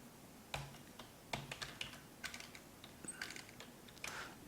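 Fingers typing on a computer keyboard at close range, irregular clusters of crisp key clicks in short bursts with brief pauses, no voices.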